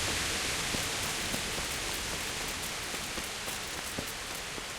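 Rain falls steadily in the medieval video game Kingdom Come Deliverance, a dense continuous hiss with scattered soft drop ticks, no voices over it.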